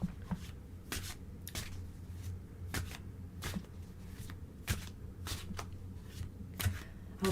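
Tarot cards are shuffled by hand in a series of crisp riffling bursts and soft slaps, repeating every second or so at close range in a quiet room.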